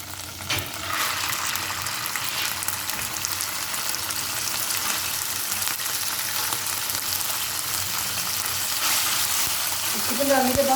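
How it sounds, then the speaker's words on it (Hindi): Chicken frying in a pan for homemade Arabic pocket shawarma, a steady close sizzle with stirring, continuous and fairly loud throughout with a brief clatter near the end. "हल्का सा मैं फ्राई करूँगी ताकि इसके अंदर कुछ अच्छी सी खुशबू आना शुरू हो जाए। तो मैं इसके अंदर चिकन डाल दूँगी।"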